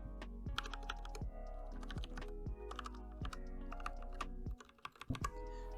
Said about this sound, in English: Let's do a little sound test for the switches.